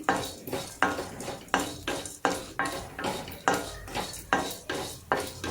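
Ridge gourd stir-fries in a pan for chutney, with a regular rhythm of about a dozen sharp spatula scrapes and clanks against the metal over a light sizzle, close up and with no talking.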